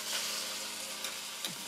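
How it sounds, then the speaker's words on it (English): Tomatoes sizzle in hot olive oil in a pan, a steady close hiss with a couple of faint taps, and nobody speaking. "So now we are gonna add some olive oil to cook our veggies. First thing that I'm gonna cook is the tomatoes."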